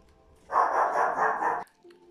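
A dog gives one sustained, loud, close bark-yelp lasting about a second, followed by a faint softer sound.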